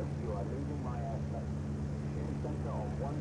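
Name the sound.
aircraft engine landing in Flight Sim World video game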